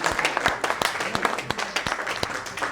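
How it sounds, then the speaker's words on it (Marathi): An audience claps in scattered, uneven bursts at a community event honouring a woman who passed her 12th-grade exam at 50. The claps are moderately close, and voices murmur beneath them. "जोरदार टाळ्या."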